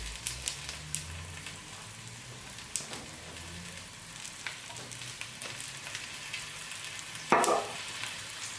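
Oxtail pieces browning in hot oil in a pot, giving a soft, steady sizzle and crackle throughout with a brief louder spatter near the end; no talking.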